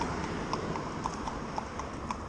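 A cob pony's hooves clip-clop steadily on a hard surface in a farmyard, an even rhythm of sharp, fairly close strikes over a background of low rumble.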